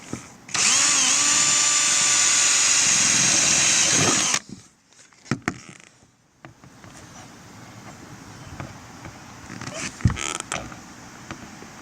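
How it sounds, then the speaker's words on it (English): A power drill with a 3/16 inch bit whines loudly and steadily for about four seconds while drilling holes for an RV roof vent, then stops, followed by quieter handling clatter and knocks. "now we're going to take our 3/16 inch bit and drill"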